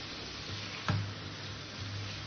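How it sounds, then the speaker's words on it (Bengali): Fried potatoes and pointed gourd added to spiced oil for a paneer curry: a steady, moderate sizzling hiss with one short soft thump from the pan partway through. "এবার এখানে আমি ভেজে রাখা আলু আর পটলটাকে দিয়ে দিলাম।"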